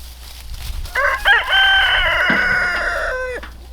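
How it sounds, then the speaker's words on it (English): Chickens being fed on a small farm, with a rooster crowing loudly and close by over a backdrop of clucking hens, the crow rising and then holding as a long drawn-out call. "Gave some feed to the chickens too, so they're over here eating."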